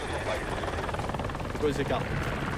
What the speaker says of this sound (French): L'hélicoptère doit aller pomper de l'eau et la larguer pile au-dessus de la lisière des flammes